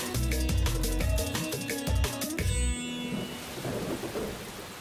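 Rumbling thunder with rain in a stormy downpour: loud rhythmic music plays for the first few seconds, then cuts off and leaves a steady wash of rain hiss with low rolling rumble.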